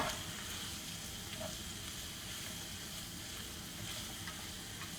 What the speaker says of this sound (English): these are just gonna saute for just like another minute or two